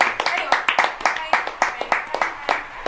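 A live crowd at a hosted stage event claps and cheers for the MC, with sharp, uneven hand claps and voices over a steady roar, close and fairly loud throughout.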